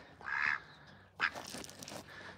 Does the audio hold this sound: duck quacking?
yes